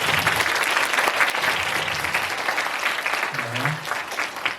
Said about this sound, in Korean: 박수 크게 한번 주시죠.